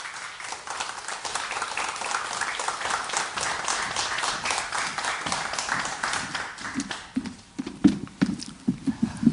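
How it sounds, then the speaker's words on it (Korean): Steady applause from an audience, a moderate crowd clapping continuously, thinning slightly toward the end. "포토 스토리텔러 변영도 강사님을 큰 박수로 모시겠습니다."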